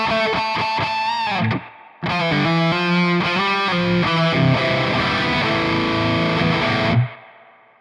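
An ENGL E670 Special Edition guitar amp plays distorted metal chords with reverb on, loud and close, with a short break near the two-second mark and a reverb tail lingering after the final chord.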